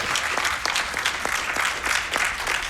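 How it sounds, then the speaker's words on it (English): A crowd at the Awesome Games Done Quick 2026 speedrun marathon applauds a Momodora: Moonlit Farewell run. The clapping is thick and continuous at a steady, fairly loud level, with no speech on top. "Much love from the crowd."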